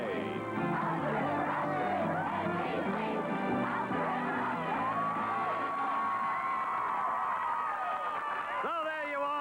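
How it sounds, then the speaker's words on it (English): Large crowd cheering and clapping at an outdoor televised sports competition on a university campus in 1982, a continuous dense roar with a commentator's voice running over it throughout, dropping off abruptly near the end. "The crowd's cheering behind us."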